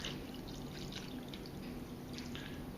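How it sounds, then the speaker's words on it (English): Water poured from a three-quarters-full pitcher into a container for chicken brine, a faint, steady splashing pour with a continuous liquid hiss and no talking. "And then we're going to add our water."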